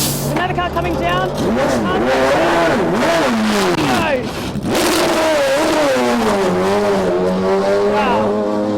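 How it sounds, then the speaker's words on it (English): A race car comes down the Le Mans pit lane, its engine loud and close, revving with rising and falling pitch sweeps and a brief dip midway, while a crowd's voices murmur underneath. "There's another car coming down."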